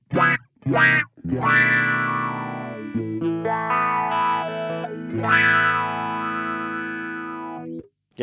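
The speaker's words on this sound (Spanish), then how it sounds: "Y ahí tenés cómo suena este excelente filtro o wow automático, como le quieras decir, de Earthquaker Devices, el Spatial Delivery" Electric guitar runs through an Earthquaker Devices Spatial Delivery envelope filter, giving a few short plucked stabs, then long sustained chords whose tone sweeps with an automatic wah, clear and alone.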